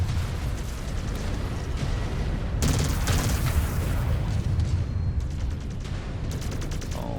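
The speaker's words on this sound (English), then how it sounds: "that's a lot of missiles." A missile barrage bursting in MechWarrior 5: Clans, a dense, continuous roll of explosions and rapid pops with a heavy low rumble, loudest around the middle and tapering into scattered bursts, no talk.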